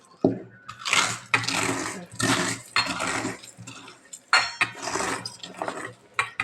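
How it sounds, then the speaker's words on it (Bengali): Steel sugar and tea containers being rinsed and scrubbed in a home kitchen, with clinking metal and splashing water in bursts, close and fairly loud. "চিনি চায় ডিব্বাগুলো আমি ধুয়ে দিলাম"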